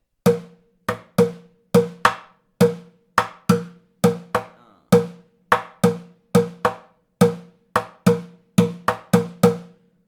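Hits on a plastic bucket in a steady groove alternate between deep, boomy bass thumps and sharper snare-like cracks, close and clear.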